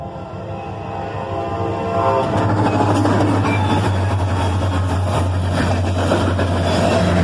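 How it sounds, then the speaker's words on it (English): A Canadian Pacific and BNSF freight train led by a GP38-2 locomotive roars past at speed, rising from a distant rumble to a loud, steady thunder of wheels and engine with a low droning tone. "As we were coming up to cross the tracks, the gates dropped, and this train was flying."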